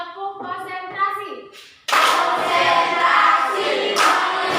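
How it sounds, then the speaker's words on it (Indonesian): Children in a classroom start with a few voices, then burst into a loud, steady burst of rhythmic group clapping for a concentration clap game. "Tepuk konsentrasi."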